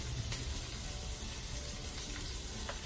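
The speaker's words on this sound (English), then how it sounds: "put some of that bacon grease back in there. Not a lot. I used about a tablespoon. Drop in those onions." Onions sizzling in about a tablespoon of bacon grease inside a Ninja Foodi pot, a steady, dense crackle of frying that runs evenly throughout with no talking.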